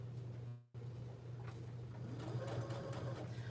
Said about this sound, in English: She doesn't like the sound of the sewing machine.